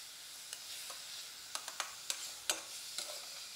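Beef strips searing in a hot frying pan, a quiet steady sizzle broken by a few sharp crackles and spatters, no voices.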